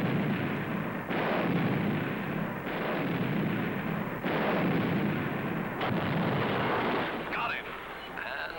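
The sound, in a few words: artillery fire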